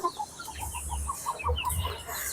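Several chickens cluck in short, repeated bursts nearby, a busy scatter of calls over low background rumble.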